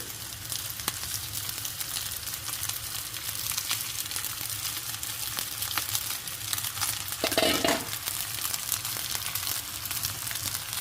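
Cooked rice for street-style egg fried rice is stir-fried in a hot pan, giving a steady sizzle with continuous scraping and tossing that swells briefly near the end, with no talking.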